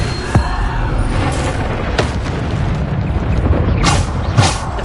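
A Bombarda spell blast in the video game Hogwarts Legacy: heavy booming impacts over a continuous roar of combat noise, with a few sharper bursts standing out, loud and close, with no talk.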